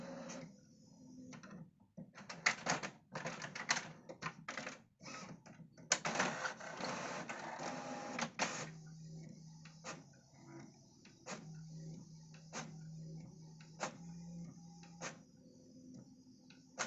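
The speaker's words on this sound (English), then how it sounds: "it's then going to print out on my HP Wi-Fi printer" An HP Envy 5546 Wi-Fi inkjet printer prints a ZX Spectrum listing, starting with a busy stretch of whirring and clacking feed, then a steady low motor hum broken by regular sharp ticks as the print head shuttles.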